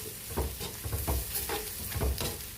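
Onions frying in a pan for Kerala ulli theeyal make a soft sizzle broken by repeated scraping stirs, close and fairly quiet, with nobody talking.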